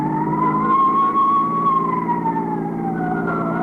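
A 1950s ambulance siren wailing on an emergency run, a single loud rising and falling tone over a low engine rumble, heard close and alone.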